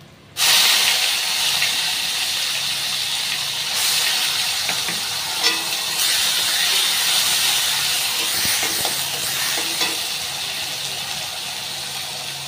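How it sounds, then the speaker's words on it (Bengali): Cumin, ginger-garlic and onion paste fry in a pan for a fish curry, opening with a sudden loud hiss of steam and sizzle that holds strong throughout, with occasional stirring scrapes. "এখন এর মধ্যে একটুখানি আদা রসুন আর একটু পেঁয়াজ বাটা দিয়ে দেবো"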